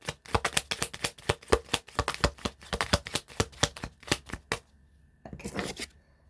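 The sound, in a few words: shuffling a deck of affirmation cards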